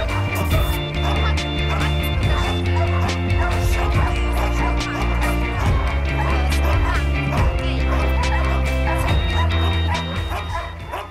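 Several dogs bark and yip continuously at an animal shelter, close and loud, with whimpering mixed into a dense, overlapping chorus that lasts the whole stretch.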